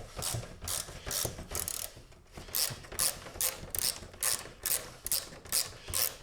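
A hand ratchet loosening an 8mm bolt on a MINI R53, clicking in quick regular bursts with brief pauses between strokes, close and clear with no talking.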